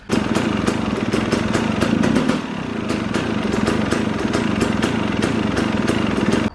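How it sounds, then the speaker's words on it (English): A motorcycle engine fitted with a Keihin 38 PWK carburetor idles steadily up close after warm-up, a loud, even rapid putter with one brief dip partway through. "I've warmed the bike up and I set the idle, so it's idling quite nicely now."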